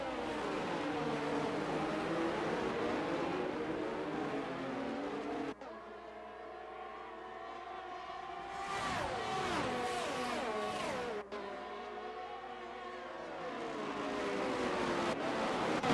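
Formula-style McLaren race cars in a racing video game on the Austria circuit, engines droning loudly and steadily throughout with rising and falling whines and pitch sweeps as cars pass and shift, no talk.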